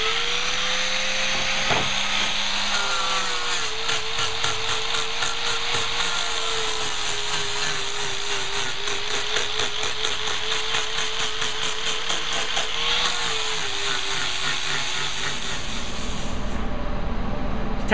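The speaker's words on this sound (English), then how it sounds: "Now we got to take and do a little sanding and make all this look shiny and pretty." A power sander works a cut piece of metal, giving a continuous loud hiss and whir with a rapid pulsing texture that runs steadily for most of the stretch, with no talking.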